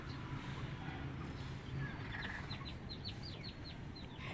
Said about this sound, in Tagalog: Ito yung itik, nagurang na.